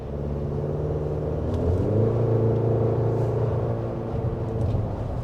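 The engine of a 2023 GMC Canyon Denali pickup revs up, a deep meaty rumble rising in pitch and swelling in loudness mid-way before easing back, heard close from inside the vehicle with no one talking.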